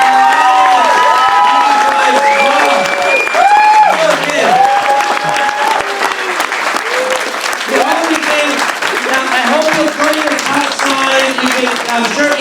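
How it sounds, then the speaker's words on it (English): A film-event audience claps and cheers for the filmmakers, loud and continuous, with voices shouting and calling over the dense applause throughout. "A round of applause for the"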